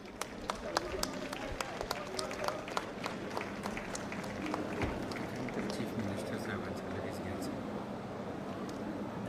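An audience at an inaugural ceremony for an advocate academy in Taloja, Navi Mumbai gives a steady round of applause, with many hands clapping continuously at moderate distance throughout.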